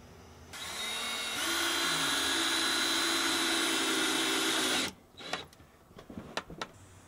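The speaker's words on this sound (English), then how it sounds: "I'm just gonna run those screws right through again" A power drill drives screws into a wooden swing-set frame being fitted with solar panel mounts, whirring steadily and loudly for about four seconds before stopping, followed by a few scattered clicks and knocks.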